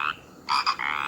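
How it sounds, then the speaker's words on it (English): A frog croaks a few quick times, close and clear, over a faint hiss with no talking, as a sound for children learning about the rainy monsoon season. "Yes, it's a frog."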